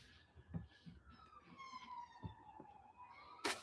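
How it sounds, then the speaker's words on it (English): A faint siren wails outdoors at a distance, its tone rising and falling slowly behind low background noise, with a few soft knocks and rustles close by. "Oh, more sirens."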